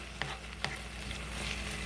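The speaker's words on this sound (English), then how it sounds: "Okay, stir that off in there good." Taco hashbrown casserole sizzles in a pan while it is stirred, giving a soft steady frying hiss broken by two brief scraping clicks of a utensil.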